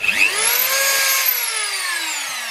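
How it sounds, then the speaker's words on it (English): A rotary tool fitted with a small grinding stone smooths down a metal part during a Honda Super Cub suspension upgrade, a loud high-pitched whine that rises and then slowly falls in pitch as the motor loads and eases, steady and close. "Just a little stone attachment on there just to grind it down."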